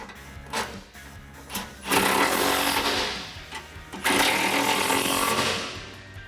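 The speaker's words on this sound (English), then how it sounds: "Now we can switch back over to our 10mm socket and tighten down these two bolts." A 10mm socket on a power driver tightens exhaust bolts on a 2015-2020 Ford F150 dual exhaust, giving two sustained, loud mechanical whirring bursts separated by a short pause, with faint clicks before.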